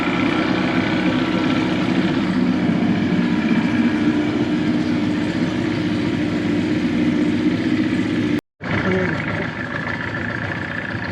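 Vehicle engine revving at a camp, a loud, continuous low rumble and roar held nearly steady, cutting out abruptly for a split second before resuming at the same level.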